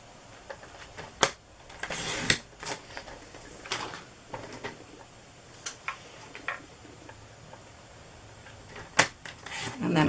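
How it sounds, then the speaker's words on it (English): Whisper White cardstock is cut with a paper trimmer, giving sharp ticking clicks and a few brief slicing swipes, close by and fairly quiet, with occasional soft talk. "let me just go ahead and cut another piece for this"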